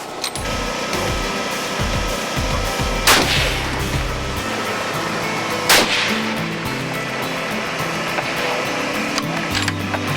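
A scoped rifle fires at a 600-yard target on an outdoor long-range shooting course. Two sharp, loud shots ring out a few seconds apart over a steady background of wind and rumble.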